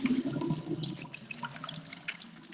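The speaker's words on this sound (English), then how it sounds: "I'm going to wash my face." Tap water runs steadily into a sink during face washing at bedtime, a close, continuous splashing and trickling with small droplet spatters throughout.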